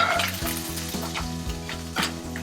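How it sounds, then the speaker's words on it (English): Green chilies hiss and crackle in hot oil on lowered heat while being stirred for Kashmiri dum aloo, a steady close sizzle with a few soft spoon knocks against the pan and light background music. "Add the green chilies. Give it a stir."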